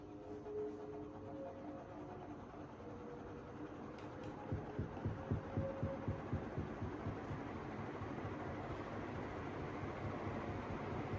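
A 48-inch Mistral MCFLA 48 style 3 ceiling fan from the mid-late 1970s, Australian made with a cast aluminium motor, runs on high speed, giving a faint steady hum with a soft rhythmic throbbing.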